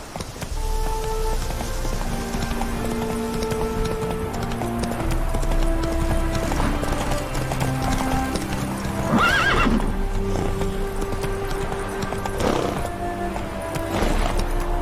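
The horse Roach galloping in The Witcher 3, with steady rhythmic hoofbeats on the ground under a continuous musical score and a brief snort or whinny partway through.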